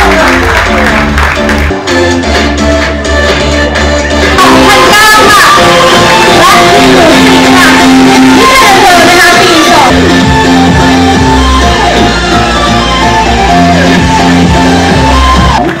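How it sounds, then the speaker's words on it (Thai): A crowd at a BEC Tero Sasana football club event applauds and cheers for its sponsors, with shouts and whoops over loud music that plays throughout. "ขอเสียงปรบมือให้กับสปอนเซอร์ที่ใจดีด้วยนะครับ"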